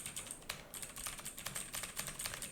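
Rapid, uneven keystrokes on a computer keyboard while chat messages are typed for a Twitch and Kick live stream, close and clear with no talking.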